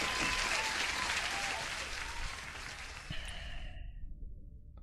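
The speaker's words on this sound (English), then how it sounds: "Everybody, huge applause for Mohammed for passing the evaluation." A burst of congratulatory applause for someone passing a trading evaluation, a dense wash of clapping that tapers off after about four seconds, leaving a low background hum.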